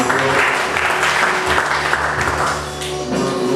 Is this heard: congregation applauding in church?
yes